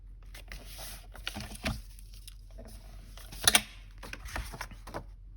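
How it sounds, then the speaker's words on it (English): Paper signatures being folded for a handmade journal made from a 6-inch paper pad, heard as a run of close, soft rustles, creases and crisp swipes, with one sharper burst of crinkling near the middle and no talking. "So we'll start folding these."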